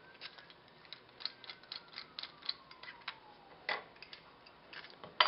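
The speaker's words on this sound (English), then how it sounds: "Unscrew it here." Plastic frother of a Krups XP5240 steamer wand being unscrewed by hand, giving a run of faint, close clicks and ratchet-like ticks with a slightly sharper snap near the end.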